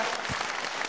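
An audience claps steadily in a hall to welcome a performer onto the stage; a brief, dense, even burst of applause with no voices.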